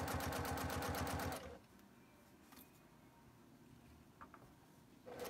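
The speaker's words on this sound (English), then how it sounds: "Sewing fast." Sewing machine running fast through fabric, a quick dense mechanical whir for over a second, then a quiet pause with faint handling noises before the stitching starts up again.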